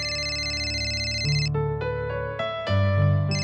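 A mobile phone ringtone plays a bright electronic melody of stepped tones, loud and alone, left ringing inside a house.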